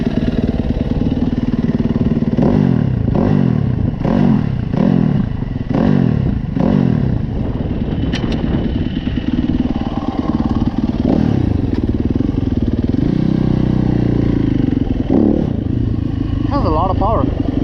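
Yamaha YZ250F dirt bike being ridden, its engine thumping and revving in repeated bursts before settling into a steadier drone, with clattering and occasional thuds. The sound stays loud and close throughout, with talk over parts of it.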